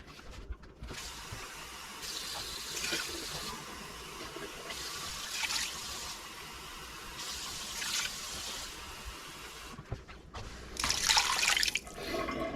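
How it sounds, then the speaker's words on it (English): Water poured from a tap into a soup pot for split pea and ham soup, running in several separate bursts of a few seconds each, close and moderately loud, with no talking. "And then you add your 6 cups of water."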